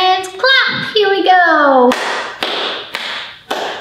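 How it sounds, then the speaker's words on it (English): Several sharp hand claps ring out at an even pace in a children's storytime session, close and loud, after a stretch of a woman's sing-song voice. "Now put those fingers together and clap."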